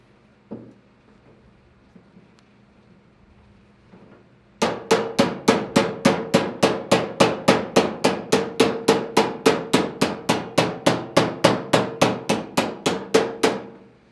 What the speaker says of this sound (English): We're going to peen a little bit.